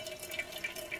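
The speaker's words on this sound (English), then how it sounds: "Well, it does drip down through pretty quick." Coffee dripping through a GSI Coffee Rocket funnel, quick soft liquid drips and trickling, faint and close with no talk.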